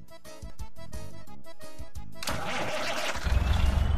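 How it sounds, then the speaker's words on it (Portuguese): In an online truck driving game, a truck's starter cranks in a rapid, stuttering series and the engine then catches into a loud, rising rumble that grows heavier toward the end. "O motor de partida parece uma caminhonete."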